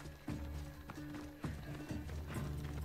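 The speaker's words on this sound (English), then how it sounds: "Where's my horse?" Horse hooves galloping in the Assassin's Creed Odyssey video game, rhythmic clip-clop beats at a steady pace, fairly near with game ambience underneath.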